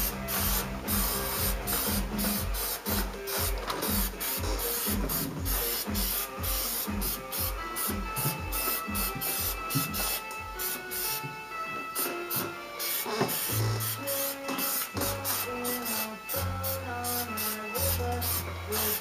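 A light first spray texture coat goes onto a Ford F-150 truck, giving a steady airy hiss that runs throughout, partly masked by loud rhythmic background music.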